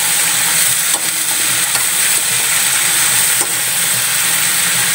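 Mixed vegetables being sautéed (ginisa) in a pan, a steady, loud close sizzle and hiss with occasional scraping stirs, no talking.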